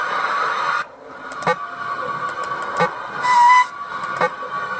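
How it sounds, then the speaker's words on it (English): Inside the horror video game Five Nights at Smudger's 2, a steam whistle sounds a sustained hissing tone over a droning background, with brief sharp clicks scattered through. "And that's Smudger's whistle"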